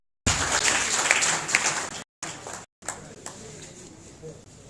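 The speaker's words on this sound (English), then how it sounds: "A round of applause." Audience applause at a university convocation inter-faculty debate, loud bursts of clapping that break off briefly twice before resuming more softly.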